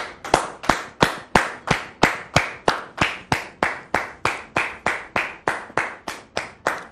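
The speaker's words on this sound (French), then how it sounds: "On la reçoit sous vos applaudissements." A studio audience at a French-language talk show claps in steady unison to welcome the first guest, about twenty crisp, evenly spaced claps over seven seconds with no talking.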